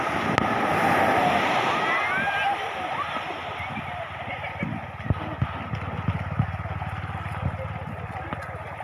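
Sea waves wash in a broad hiss on Kuakata beach at first, fading into wind buffeting and scattered knocks, with people talking now and then.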